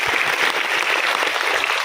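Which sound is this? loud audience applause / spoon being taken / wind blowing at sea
loud audience applause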